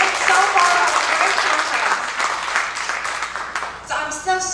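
A seminar audience gives the organizer a round of applause, a burst of clapping that thins out over a few seconds before a voice speaks near the end.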